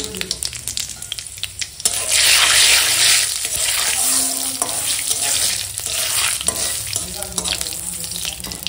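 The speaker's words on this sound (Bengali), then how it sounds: "তেল গরম হয়ে গেছে, দিলাম তেজপাতা, দেবো শুকনো লঙ্কা, 5 ফোড়ন" Bay leaf, dried red chillies and five-spice tempering hit hot oil in a pan with a sudden loud, sustained sizzle that gradually settles into a lighter crackle, with brief clatter from the pan.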